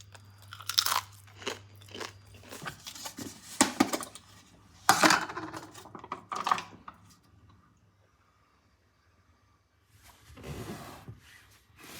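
Nitrate-free, sugar-free bacon being bitten and chewed close up, giving a series of crisp crunches and mouth sounds over several seconds, a quiet pause, then a few more chews.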